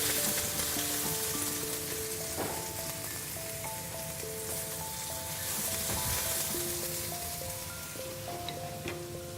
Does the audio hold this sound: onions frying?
yes